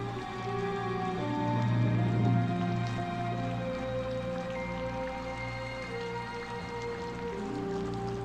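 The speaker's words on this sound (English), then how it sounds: "the rain pours" Rain pours steadily at the opening of the film Singapore Sling, a soft, even wash beneath a sustained classical orchestral score that stays prominent.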